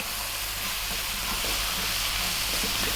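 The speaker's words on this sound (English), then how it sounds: "We're now going to add in our mushrooms, 250 grams" 250 grams of mushrooms go into a hot pan for a mushroom curry and set off a loud, steady, close sizzle and frying hiss that fills the whole stretch without a break or any talking.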